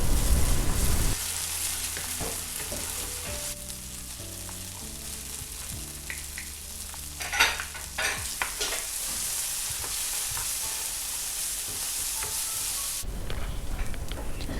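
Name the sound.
chilies and tomato paste frying in a pan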